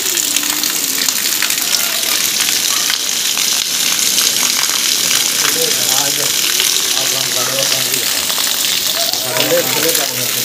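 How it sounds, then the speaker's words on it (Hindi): Heavy rain pours down with drainpipes gushing, a dense, loud, continuous hiss and splatter close by, with a voice talking over it. "ये देखें जी परनाले भी चल रहे हैं, ये देखें बारिश तेज हो गई है"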